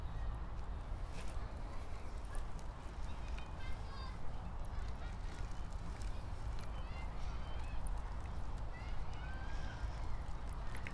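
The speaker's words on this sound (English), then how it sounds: "the ducks are out." Ducks at an outdoor lake give faint, distant, scattered quacks and honks over steady open-air background noise.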